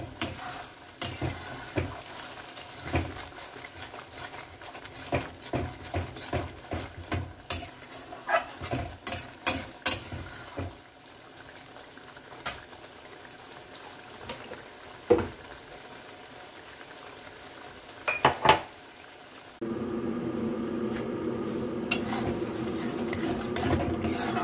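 Mustard and poppy seed paste with green chilli, ginger, salt and turmeric fries in a pan for a pomfret curry, steady close sizzling broken by quick rhythmic spatula scrapes, then a sudden louder, continuous hiss in the final seconds, with no talking.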